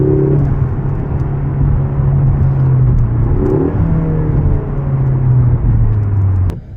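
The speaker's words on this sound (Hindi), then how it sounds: "ये जो आवाज़ निकालती है ना गाड़ी, हाय हाय हाय" A truck engine rumbles and revs in a steady, loud drone, rising in pitch briefly near the middle before settling, ending abruptly with a sharp click.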